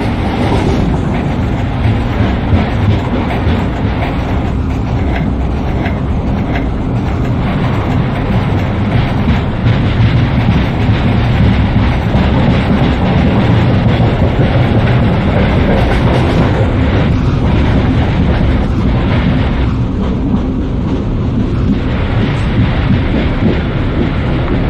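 An intercity express train in Microsoft Train Simulator rumbles along at speed with ICF coaches, giving a loud, continuous roar and faint clickety-clack from the wheels that holds steady throughout with no talking.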